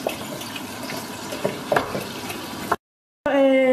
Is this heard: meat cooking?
yes